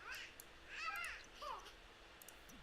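A unicorn cat in the Sims 4 life-simulation game lets out a few short, faint meows, spaced apart over quiet background music.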